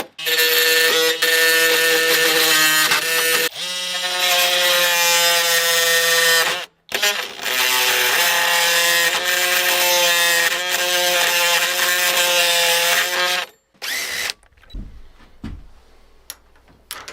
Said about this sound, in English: I just need to cut them off. And I'm hoping my multi-tool will do the trick.